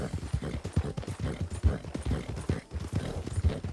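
Horse hooves clip-clop in a video game, a quick, steady rhythm of close, dull thuds with no one speaking.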